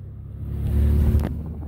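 An off-road vehicle engine revs up during a boar hunt, a loud low rumble building and swelling close by over rough ground, with a brief clatter near the end.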